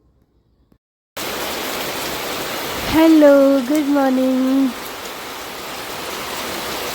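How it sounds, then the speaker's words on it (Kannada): Steady monsoon rain pours down in Coorg, a continuous dense hiss that holds at the same level throughout, with a voice briefly speaking over it midway. "ಬಟ್ ಸ್ಟಿಲ್ ಮಳೆ ಅಂತೂ ನಿಂತೇ ಇಲ್ಲ."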